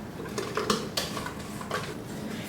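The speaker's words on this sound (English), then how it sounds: "We're going to just go ahead and finish folding it in by hand." Pumpkin cupcake batter folded by hand in a mixing bowl, with soft scraping and light clinks of a utensil against the bowl in a quick, uneven rhythm, close and fairly quiet.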